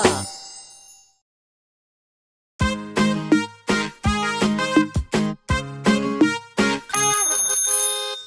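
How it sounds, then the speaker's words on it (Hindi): A bicycle bell gives one ring that fades, then after a pause dings many times in quick bright succession, loud and close. "साइकिल की घंटी जोर से बजाई"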